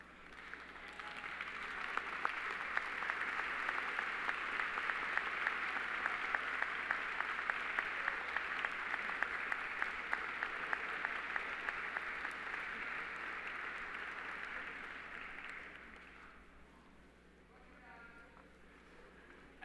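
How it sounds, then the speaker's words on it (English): A large commencement audience gives sustained applause to the graduates' parents, with many hands clapping evenly for about fifteen seconds before the sound fades away. "give them a big round of applause"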